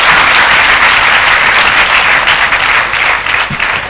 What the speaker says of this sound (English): Please give a very big applause to this function.